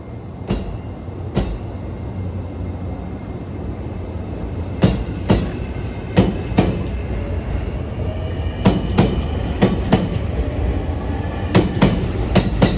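Inside a Japanese limited express train on the Banetsu line, a steady rolling rumble fills the cabin, punctuated by regular clickety-clack rail-joint thumps in pairs as the car travels along, with no talking.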